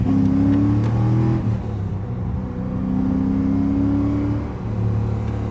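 A Corvette with E85 flex fuel and a catless X-pipe exhaust revs on a mountain road, its loud, close engine note rising and falling in sustained droning pulls with brief dips between.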